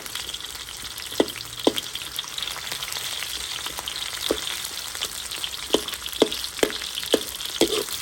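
Onions sauté in very hot oil for a fish stir-fry, a steady close sizzle punctuated by a series of sharp utensil knocks and scrapes against the pan, with no voices.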